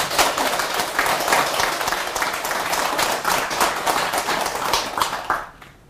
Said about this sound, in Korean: 격려의 박수 한번 보내주셔도 되는데